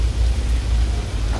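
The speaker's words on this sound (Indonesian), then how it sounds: "mengenai suasana hujan di kapal ketika mau bersandar berlabuh di pelabuhan Gilimanuk Bali" Heavy rain falls on a ferry as it comes in to dock at Gilimanuk port in Bali. It makes a loud, dense, steady hiss over a deep rumble, heard up close without any talk.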